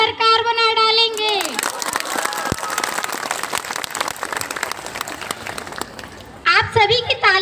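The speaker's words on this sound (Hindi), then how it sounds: "आप सभी की तालियों की गड़गड़ाहट से सदन तो गूंज उठा" An audience in a hall bursts into loud, dense applause lasting several seconds, with voices heard just before and as it dies away.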